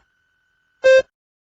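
A single electronic beep, about a fifth of a second long, sounds clearly in otherwise near silence.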